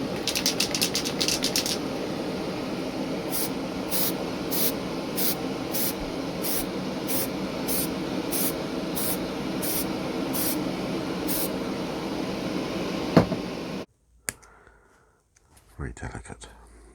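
An aerosol can sprays etch primer onto model railway parts in short hissing bursts, a regular run of close spray pulses that ends in quiet, while someone talks over part of it.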